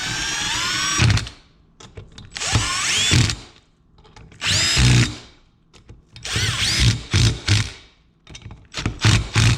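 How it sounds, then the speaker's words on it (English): Power tool or impact driver tightening bolts on a Honda TRX 450ER engine, several loud whirring bursts of a second or two each, separated by brief pauses, close up with no talking. "let's torque them down."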